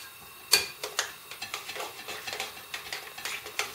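Utensil stirring and clinking in a pan of hot oil, a string of light metallic scrapes and taps at an irregular rhythm, close and fairly quiet, with no talking.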